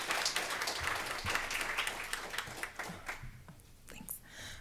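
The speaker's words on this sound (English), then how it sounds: "So can we all give them a round of applause for this wonderful?" Audience applause at a health care workforce event, dense clapping that holds fairly steady then thins and trails off toward the end, with a few scattered claps remaining.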